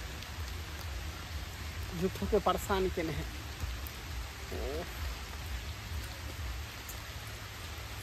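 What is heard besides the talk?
rain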